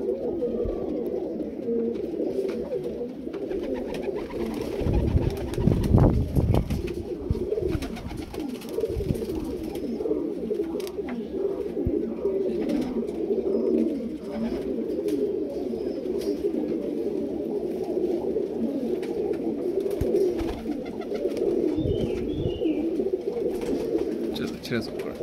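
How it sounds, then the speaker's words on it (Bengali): Domestic high-flyer pigeons cooing in a loft in Krishnagar, Nadia: continuous low, throaty rolling coos from several birds close by, with a voice talking over them and brief louder rustles around the middle. "Super quality Payra."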